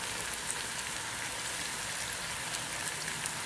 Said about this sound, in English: We got a nice sizzle going on down in there now.